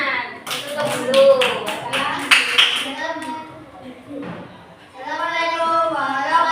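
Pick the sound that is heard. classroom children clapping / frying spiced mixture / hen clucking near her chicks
classroom children clapping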